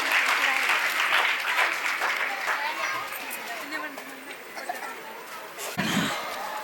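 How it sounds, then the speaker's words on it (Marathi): Strong crowd applause for the guests at an annual school function in Latur, a dense wash of clapping filling the room, thinning slightly toward the end, with a voice speaking briefly near the close. "तर एकदा जोरदार टाळ्या वाजूया आपण या सर्व मान्यवरांसाठी."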